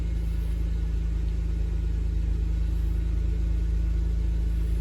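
A car engine idles steadily at close range, a constant low hum and rumble with no speech.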